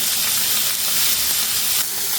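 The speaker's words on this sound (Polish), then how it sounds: "Burgerki się smażą" Steady, loud sizzling of burgers frying in a hot pan, a continuous hiss with no talking.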